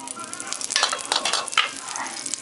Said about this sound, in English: I have some oil, some corn oil, and I'm gonna add some butter.